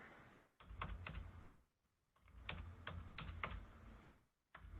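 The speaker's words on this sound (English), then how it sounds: "So for example, I can type in a number," Someone types a number on a computer keyboard: two bursts of quick, close keystrokes with a short pause between them, then a final tap at the end.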